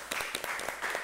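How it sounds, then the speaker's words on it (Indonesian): A small audience claps briefly for pageant finalists, a short burst of scattered, fairly faint handclaps lasting about a second. "Oke, tepuk tangan dulu dong."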